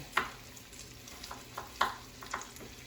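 Onion frying in a pan with chicken, heard as a soft, low background sizzle with a few distinct spoon clicks and scrapes at irregular moments, nearby and without voices.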